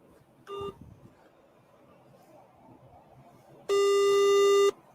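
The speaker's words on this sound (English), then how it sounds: "Hey, listen, it's ringing. Can you hear it ringing?" International phone call on speakerphone, with a short tone burst early on, quiet line noise, then a loud steady ringback tone near the end.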